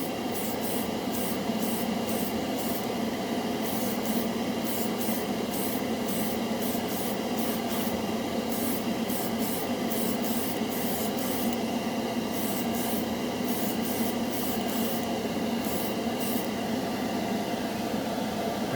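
Model Master Metalizer paint sprays steadily from a can onto a plastic spoon, a continuous close hiss with no pauses.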